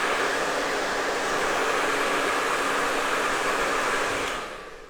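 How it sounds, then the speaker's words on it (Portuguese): Hair dryer blowing on a doll's fringe during a hairstyling demonstration, a loud, steady close-up whoosh lasting several seconds before fading as it is switched off. "Segure e jogue o secador desta forma."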